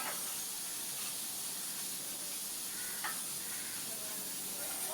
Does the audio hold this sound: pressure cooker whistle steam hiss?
yes